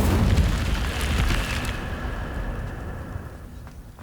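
Incendio fire spell cast in Hogwarts Legacy, a loud whooshing burst of flame that booms at the start and then crackles and fades over a few seconds.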